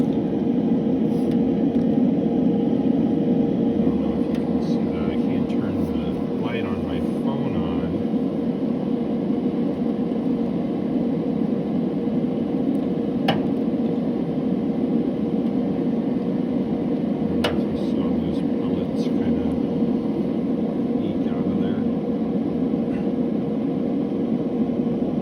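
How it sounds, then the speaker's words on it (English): A Bullseye pellet grill runs on riot mode with a steady, loud mechanical whir and fan drone that continues unchanged, broken by a few faint clicks and knocks, with no voices. "So I turned the grill on, it's on riot mode."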